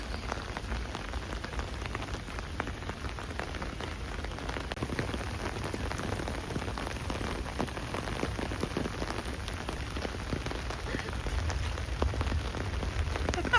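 Steady spring rain pattering on surfaces all around at Changgyeonggung Palace, a constant dense hiss of drops with no voices, moderately loud throughout.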